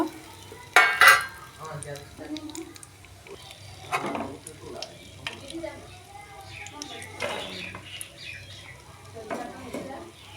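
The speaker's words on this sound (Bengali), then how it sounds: "চিনে বাদাম ভেজে নেব" Raw peanuts stirred and frying in a pan while dal chanachur snack mix is made, with a few loud clattering scrapes early on and a steady soft sizzle and stirring underneath someone talking.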